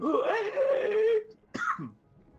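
A human voice imitates a fish's drawn-out, mournful wail as it is stabbed, sinking in pitch, then breaking off, followed by a short cough.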